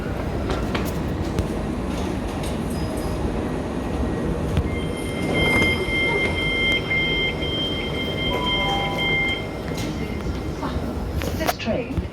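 A Southern train runs on the line through Sutton and Cheam toward Horsham, its wheels rumbling continuously with thin squealing tones rising over the noise, while people talk nearby.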